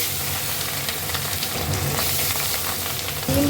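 Bata fish sizzle in hot oil in a pan, a close, steady hiss with scattered pops and crackles and a brief clatter near the end, no voices present.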